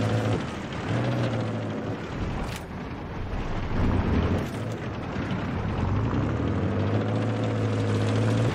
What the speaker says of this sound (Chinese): 非常大的敌军飞机，我们必须要小心